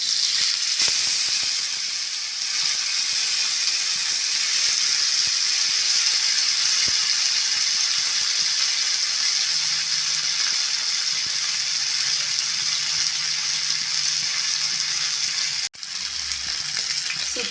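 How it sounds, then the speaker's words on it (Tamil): Masala-coated pomfret fish pieces fry in hot oil in a pan, giving a loud, steady, dense sizzle that continues unbroken throughout with only a brief dip near the end. "ஆயில் நல்லா சூடாயிடுச்சு இப்போ நம்ம மசாலா தடவி வச்ச ஒவ்வொரு பீஸஸையும் சேர்த்துக்கலாம்"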